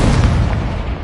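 A fiery Incendio spell cast in Hogwarts Legacy erupts as a loud, close, roaring burst that stays dense and rumbling for about a second, with no talk.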